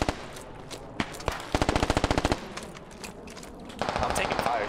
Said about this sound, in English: I'm taking fire straight down.